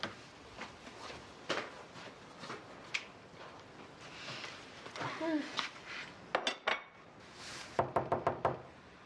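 Dishes and cutlery clink and knock intermittently in a kitchen, with sharp rapid clatters toward the end and voices faintly in the background.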